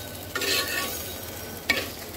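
Spices and vegetables stir-fried for a fish curry with potatoes and flat beans, a close sizzling hiss with two brief scraping stirs of a spatula, the second sharper, and no talking.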